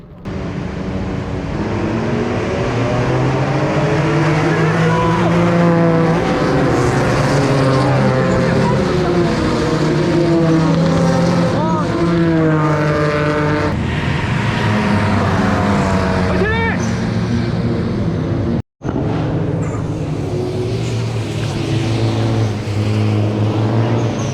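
Loud GT race cars of the 2021 CJ Super Race season opener roar on a wet track during the formation lap. The droning engine notes rise and fall as cars pass close by, and commentary is heard over them.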